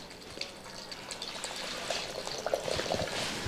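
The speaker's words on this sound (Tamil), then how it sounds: "அதனால் நான் ஒரு டம்ளர் ஊற்றிக்கிறேன் இந்த ஜூஸ் நல்லாயிருக்கும்" Medicinal juice is poured into a tumbler, a faint continuous trickling splash lasting several seconds that grows slightly fuller toward the end.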